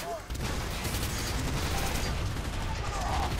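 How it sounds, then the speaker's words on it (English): Heavy tank cannon fire in the video game F.E.A.R. 3, a dense, continuous barrage of booming blasts and rumbling impacts filling the whole stretch at steady loudness, with no talking over it. "Giant tank cannons of doom!"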